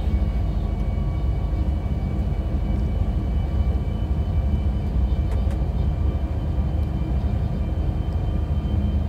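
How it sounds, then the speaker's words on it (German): A BR 146 electric locomotive in Train Sim World 5, running on the Frankfurt–Fulda line with sounds recorded from a real engine: a steady low rumble with faint tonal whine, continuous and fairly loud, with no talk. "Die Sounds wurden aufgenommen von einer echten Lok,"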